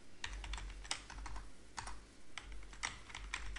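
Steady typing on a computer keyboard, soft clustered key clicks in an irregular rhythm at close range over a low background hum, with no voices.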